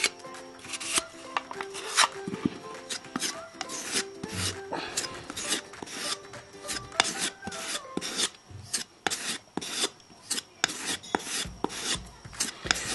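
Body filler being mixed with hardener, heard as a steady series of scraping, rubbing strokes of a spreader on a hard board, close and fairly quiet, with uneven rhythm and brief pauses.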